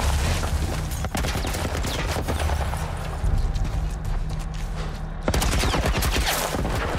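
Gunfire in The Last of Us: loud, rapid volleys of shots crackle almost continuously, with sharp single cracks standing out and a heavy low rumble beneath, one big blast partway through; a voice talks faintly underneath.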